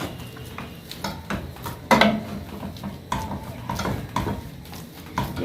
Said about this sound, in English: You stir completely until you can't find any lumps.